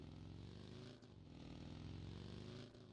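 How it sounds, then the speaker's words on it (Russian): A moped in the PUBG video game goes by with a steady droning engine that dips for a moment, then swells again and fades, and no one talks over it. "Мопед проехал."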